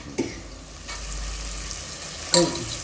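Pulao ingredients are stirred as they fry in a pan, a steady close sizzle with a couple of brief scraping knocks from the spoon against the metal.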